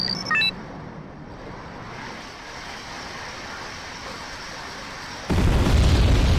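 Explosions in the war strategy game Wargame: Red Dragon, a sharp electronic blip, then a low rumble and a sudden heavy boom that keeps roaring toward the end.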